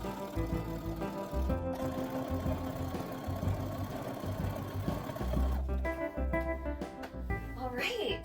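A sewing machine stitches the waistband of a pair of pants in close, rapid runs with brief pauses, a voice talking faintly in the background.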